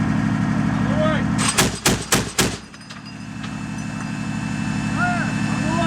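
Live-fire assault range with LM777A2 howitzers, M240G and M2 .50 cal machine guns: a sharp burst of four or five close, loud gunshots in quick succession over a steady engine rumble, with a voice calling out between.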